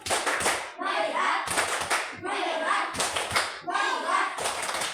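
A group of children performs a focus clap in class, bursts of quick claps alternating with short chanted responses, four repeated cycles at a lively, even pace, close and loud with kids' voices between.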